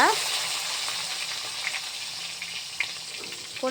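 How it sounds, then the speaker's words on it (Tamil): Ginger, garlic, fenugreek, salt and mustard seeds sizzle in hot oil for tempering, a continuous close frying hiss with a few faint pops and clinks. "இஞ்சி பூண்டு அப்புறம் வெந்தயம் உப்பு கடுகு தாளிப்பு இவங்களெல்லாம் போட்டு தாளிச்சிக்கிட்டு இருக்கிறேன்"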